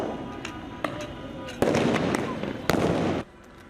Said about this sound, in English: Explosive flashbangs and clouds of tear gas filled downtown LA last night